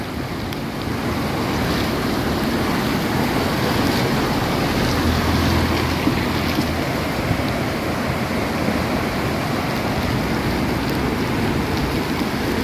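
Floodwater in a swollen river rushes near the damaged Thootha bridge as the water keeps rising, a loud, unbroken roar with wind buffeting the microphone.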